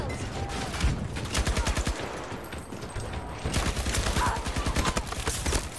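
Sustained bursts of light machine gun fire in Battlefield 2042 rattle in rapid, continuous rhythm, with overlapping distant gunfire and battle noise throughout.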